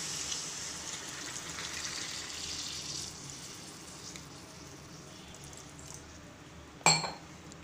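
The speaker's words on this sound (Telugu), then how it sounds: "ఇప్పుడు తగినన్ని వాటర్ వేసుకుందాం." Water is poured into a pan of stuffed brinjal masala curry in a kitchen, a steady rushing splash for a few seconds that fades, followed by one sharp metallic clink.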